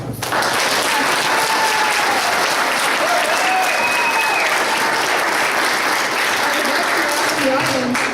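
Sustained applause from a large audience at a ward candidate forum fills the clip, steady and dense clapping throughout with no pauses.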